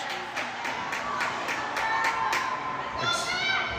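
A spectator claps a run of quick hands together at a youth hockey game after a goal, sharp claps in an even rhythm amid arena crowd noise and cheering, with a voice commenting over it.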